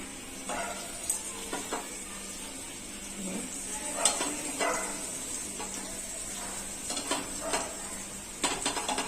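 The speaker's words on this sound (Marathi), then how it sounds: "आपण अशा प्रकारे आता हे सर्व काप फ्राय करून घेऊया." Sweet potato slices fry in a pan for a fasting snack while they are flipped over. Steady clinks and scrapes of a utensil against the pan sound repeatedly over a soft, continuous background sizzle.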